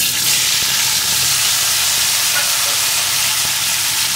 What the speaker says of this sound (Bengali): এখন এই তেলের ভিতরে কেটে রাখা উচ্ছেগুলোকে দিয়ে দেবো